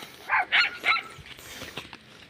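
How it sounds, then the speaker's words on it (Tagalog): Several dogs bark a few times in quick succession at a distance on a rural farm, then fade into quiet outdoor background. "Daming aso."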